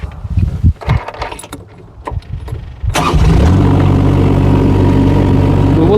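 Keys jangle and the diesel engine of a JoyT5 JT5200 2-ton mini excavator cranks and starts, then settles into a loud, steady close-up idle.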